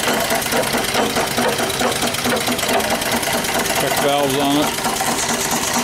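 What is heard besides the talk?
live steam engine with flyball governor running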